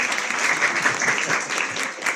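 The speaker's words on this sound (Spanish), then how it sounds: "Un aplauso, por favor, para Alex Schlenzer." An audience claps steadily at a university event, a dense, even applause that carries on throughout without pause.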